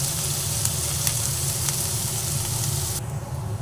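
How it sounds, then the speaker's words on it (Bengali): Onions fry in mustard oil until reddish, a dense, continuous sizzle with stirring scrapes that loses some of its bright hiss near the end. "লাল লাল করে পেঁয়াজটাকে ভেজে নেব।"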